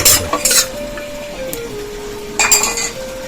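Garlic fries in oil in a pan, a low sizzle with a steady hum underneath, punctuated by two close bursts of metal utensil scraping and clinking against the pan.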